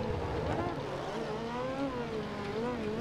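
Yamaha R6 motorcycle engine in the Ride 2 racing game, a steady high-revving whine that rises and falls slightly as it accelerates, loud and continuous with no pauses.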